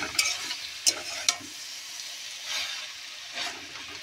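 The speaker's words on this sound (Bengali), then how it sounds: "সবজিটা কষানো হয়ে যাচ্ছে।" Vegetables sautéing in a pan give a low sizzle, broken by a few sharp spoon-on-pan clinks early on and soft stirring swishes afterward. There is no talk.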